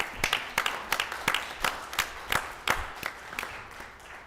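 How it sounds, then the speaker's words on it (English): Village council meeting audience claps for the council in a brief round of applause, sharp distinct claps at an uneven pace from a modest crowd, moderately distant and fairly quiet. "Will you please join me in giving a big round of applause to this council"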